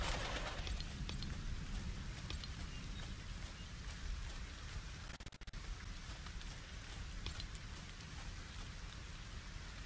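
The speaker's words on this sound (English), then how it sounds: "It's raining again." Steady rain falling in the LEGO Fortnite video game, a continuous broadband hiss that stays at an even level for the whole stretch, with no talking over it.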